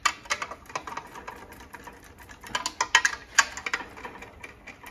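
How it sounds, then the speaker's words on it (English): A hand speed ratchet with a shallow socket spins bolts out of a transmission, giving rapid close clicking bursts in uneven runs, fairly loud, with no talking. "So a speed ratchet actually is a very fast way to remove bolts, provided they don't get stuck."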